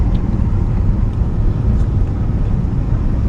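A 1945 Ford half-ton pickup truck drives along with a constant low engine and road rumble and some wind buffeting heard from inside the cab.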